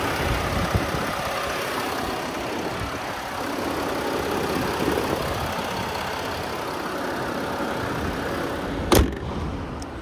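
Range Rover TD6 diesel engine idling steadily, a smooth, continuous mid-level rumble with no voices and a brief sharp knock near the end.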